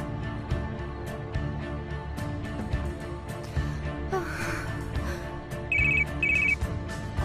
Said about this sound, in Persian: تلفنم داره زنگ میزنه، حتما بابامه.